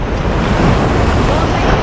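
Sea waves and wind on a shore make a loud, continuous broadband roar with heavy wind buffeting on the microphone, no distinct breaks.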